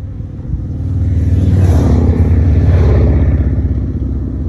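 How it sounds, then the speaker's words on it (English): Heavy road traffic rumbles past a roadside spot where a bee swarm has settled, one vehicle's engine swelling loud and close through the middle of the stretch before easing off, with no voices. "A lot of traffic."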